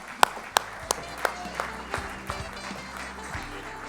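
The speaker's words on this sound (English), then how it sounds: "Let's give a round of applause to Kelley Owens." A few separate claps ring out at an education awards dinner in San Diego, sharp at first and then spaced and fading, like scattered applause dying down in a room with low background noise.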